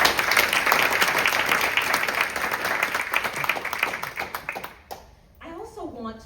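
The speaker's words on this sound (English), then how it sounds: "Let's give them a round of applause." An audience at a Hurricane Katrina journalism event gives a round of applause, dense clapping that slowly thins out over several seconds before a voice begins speaking.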